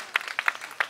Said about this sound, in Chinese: 来掌声鼓励一下，欢迎他们